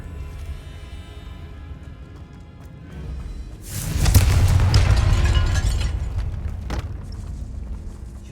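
A Confringo fire spell bursts in Hogwarts Legacy inside a barricaded tomb archway: a loud, broad explosive boom swells after a low rumble and roars for a few seconds before slowly decaying, standing alone without voices.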